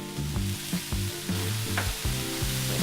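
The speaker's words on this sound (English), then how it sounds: "We're just lightly frying off the mushrooms and the carrots" Mushrooms and carrots fry lightly in olive oil, a soft close sizzle under rhythmic low clunks and knocks from stirring in the pan, with no talking.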